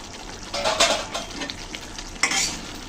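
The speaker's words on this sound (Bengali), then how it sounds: "মাছগুলো একটু হালকা নেড়ে ছেড়ে কষিয়ে নেব।" Small chela fish sizzle in oil with mustard paste as a spatula stirs them, a close hiss with a few louder scraping strokes against the pan over three seconds.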